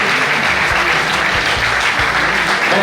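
Wedding guests applaud the newlyweds in a loud, steady wash of many hands clapping, with a low hum of voices and music underneath throughout.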